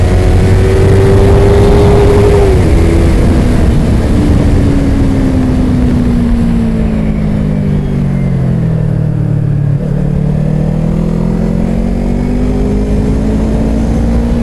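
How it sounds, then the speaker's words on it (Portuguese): A loud Yamaha motorcycle engine roars steadily with a deep droning exhaust, pitch sliding down and back up as it changes speed, heavy wind noise throughout. "Nem parece o ronco da minha MT-03"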